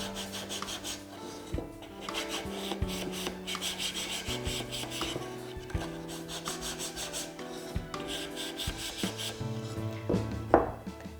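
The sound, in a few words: sandpaper sanding wooden edges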